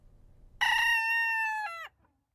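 A single rooster gives one loud, clear crow, close and alone, fading into silence afterward.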